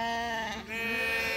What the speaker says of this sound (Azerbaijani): Bax belə qoyunlar satılır.